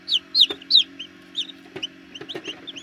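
Hens cluck and cheep around a newly hatched chick on a small farm, a run of close, high, repeated calls with short soft clucks between them and no one speaking.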